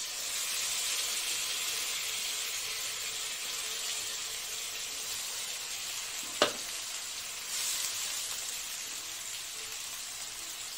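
A ground paste of chili, garlic and tomato fries in a pan for a drumstick dish, giving a steady close sizzling hiss with one sharp utensil tap partway through.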